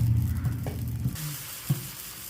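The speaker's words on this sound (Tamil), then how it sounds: "தோசைக்கல்ல எண்ணெயை தடவிட்டு நம்ம இப்போ தோசை ஊற்ற" Millet (kudhiraivali) dosa batter spreading onto an oiled hot griddle, giving a soft, steady sizzle with a couple of brief louder spits partway through, close and alone.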